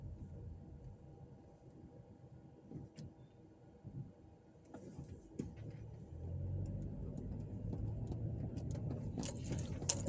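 A car's engine and tyres rumble steadily as it drives slowly through residential neighbourhood streets near housing projects in Evansville, Indiana, faint at first, then growing a little louder and closer toward the end.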